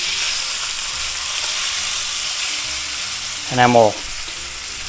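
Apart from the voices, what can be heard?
thick chuck steak searing in a pan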